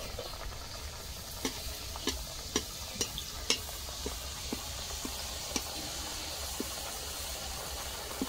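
Madhupuri pastry frying in oil gives a continuous hissing sizzle close by, dotted with small sharp pops at uneven intervals.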